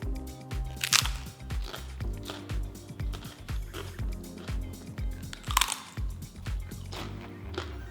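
Crispy fried potato chips crunching between the teeth, a series of sharp, close crackling bites in a steady chewing rhythm, with two louder snaps standing out.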